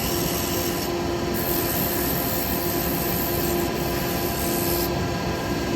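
Sandpaper rubbing steadily against a turned wood piece spinning on a lathe, a continuous dense rasping texture with a constant motor hum underneath, close and even throughout.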